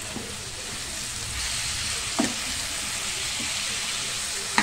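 Chopped tomatoes sizzle steadily in a hot pan for gongura chicken, a close, even frying hiss with a few soft stirring knocks.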